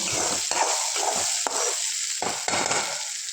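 Onions fry in a pan until brownish with a constant close sizzle, broken by several scraping spatula strokes.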